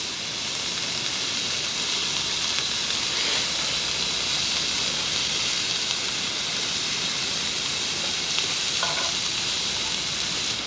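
Beef tenderloin sizzles over a charcoal grill at a campsite, Ulsan Daewangam auto campground, with a steady, close, unbroken hiss and crackle that runs throughout.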